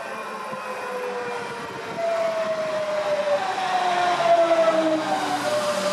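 An S-Bahn commuter train pulls into Wunstorf station in Lower Saxony, Germany, its rumble growing louder as a steady electric whine rises and holds over the station's background noise.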